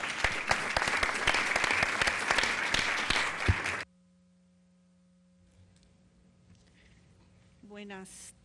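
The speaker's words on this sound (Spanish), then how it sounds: "démosles un aplauso" A burst of applause at a panel session on open parliament and transparency, dense and lively for about four seconds before cutting off abruptly, leaving near silence with a faint hum and a brief soft sound near the end.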